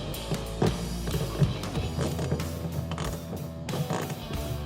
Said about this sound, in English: we'll use the 7mm ratchet here to take off 2 bolts on either side of the Jeep that are holding on that trim piece